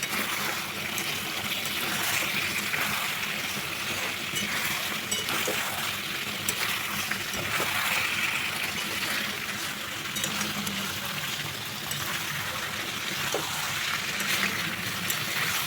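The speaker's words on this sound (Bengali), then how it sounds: "বাকি আলুগুলো ভাজা হচ্ছে" Potatoes fry in hot oil for a homemade biryani, giving a soft, steady sizzle and crackle with occasional faint clinks, heard quietly and alone.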